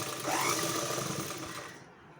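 A sewing machine stitches a blouse on a single pedal press, a steady whirring run that holds close and loud for nearly two seconds before cutting off.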